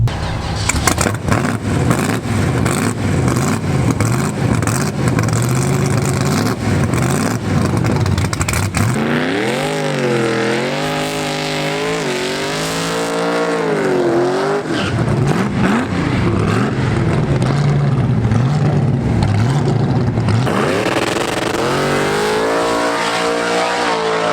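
A drag race car at the track launches and accelerates, its loud engine revving and climbing through repeated rising and falling pitch sweeps, sustained for over twenty seconds with no talking.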